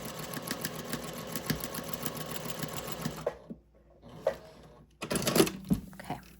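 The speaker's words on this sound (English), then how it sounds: "I'm just going to stitch right along that line" A sewing machine stitches along a marked line on a quilted gift bag, a fast steady mechanical whir with rapid ticking. It stops briefly, leaving faint handling clicks, then starts up again in a short burst.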